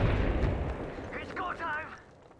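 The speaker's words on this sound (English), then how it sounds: "Look out, grenade." A grenade blast in the video game Apex Legends, a deep rumbling explosion that fades over a couple of seconds while in-game voices speak over it.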